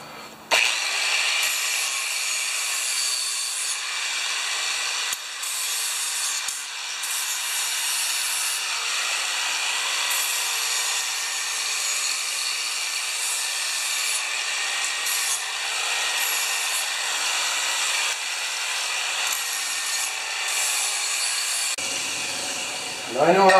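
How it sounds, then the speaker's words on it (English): A power grinder works down the end of a metal part from a 3.5 HP Homelite tiller, a steady high abrasive whine that runs nearly continuously with brief dips, ending in a clunk. "Grind this end down"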